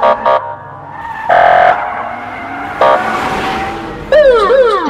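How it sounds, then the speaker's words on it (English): Russian police car siren: loud, short bursts of a harsh horn-like tone separated by gaps, then a rapid warbling whoop that sweeps up and down at the end, close and clear. "It's a Russian police car."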